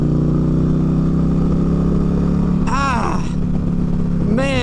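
A 2023 Indian Challenger motorcycle pulling hard through the gears: a steady, loud, low engine drone runs throughout while a rider's voice briefly speaks over it.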